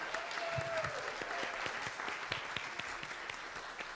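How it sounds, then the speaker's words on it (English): A church congregation applauds Colleen, its leader, with steady clapping throughout; a brief tonal whistle or feedback sound rises early on, and no clear speech is heard over the applause. "I'm going to make her stand and give her some applause."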